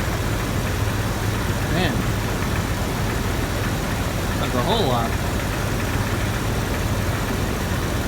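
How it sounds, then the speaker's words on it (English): Jeep Wrangler engine idles steadily after a recent cold start, with the thermostat not yet open, a constant low rumble close by while someone talks briefly over it. "I just turned the engine on a few minutes ago"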